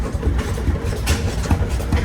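A big 55-horsepower Muncie diesel engine mounted on semi-trailer running gear chugs at an engine show, with heavy low thumps repeating at a steady beat of roughly two or three per second, loud and near.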